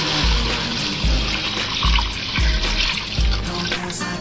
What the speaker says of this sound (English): You're going to add your chicken stock.